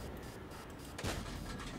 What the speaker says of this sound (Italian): Colpo di artiglieria, da dove è arrivato?